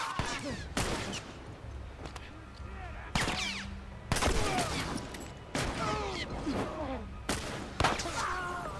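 Gunfire aimed at the player in The Last of Us: repeated sharp shots and cracks with echoing tails, spaced irregularly across several seconds, loud and nearby amid faint game ambience.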